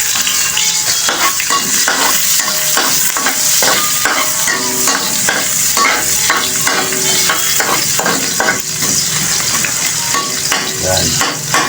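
Onions hit a hot pan and fry with a loud, continuous sizzle, broken by rapid repeated scrapes and clacks of a spatula stirring close by, with no voices over it.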